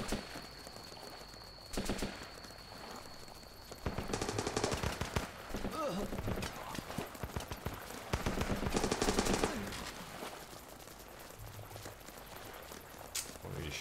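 Automatic rifle fire in the video game Running with Rifles: several bursts of rapid gunshots, some closer and louder, mixed with footsteps and a faint steady tone early on.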